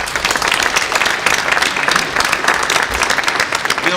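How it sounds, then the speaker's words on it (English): People at a community college board of trustees meeting clap loudly and steadily in a room, a dense, even round of applause with no talk on top. "let's give him a round of applause"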